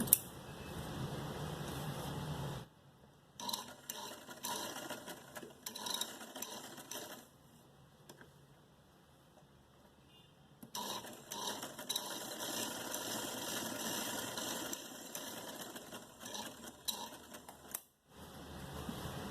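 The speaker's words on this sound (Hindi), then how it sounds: "इसको मैं यहाँ से इस तरीके से फोल्ड करूँगी और फिर इसके ऊपर सिलाई लगाऊंगी।" Sewing machine stitching along the folded back strip of a short frock, running in steady close whirring stretches broken by a quieter pause and a brief stop near the end, with no talk.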